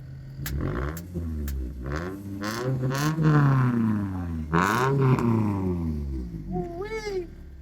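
A 2007 Scion tC fitted with an axle-back exhaust idles and revs close by, its deep droning note rising and falling through several throttle blips with small pops, ending with a brief higher whine.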